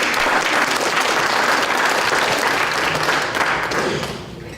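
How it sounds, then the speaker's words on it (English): A full room bursts into loud, dense applause at a KingFest kick-off event, steady clapping that tapers off in the final second. "Can you give them a round of applause, please?"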